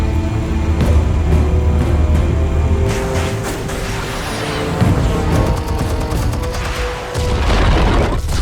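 Explosives detonate in Batman: The Telltale Series, a loud booming blast and crashing debris over rumbling game ambience, followed by more heavy impacts toward the end.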